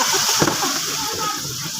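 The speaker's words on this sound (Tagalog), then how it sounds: "Buti na lang, malakas ang tubig." Strong running tap water gushes steadily during hand-washing of laundry, a continuous broadband splashing rush with one brief louder splatter, close and fairly loud, with a voice faintly present underneath.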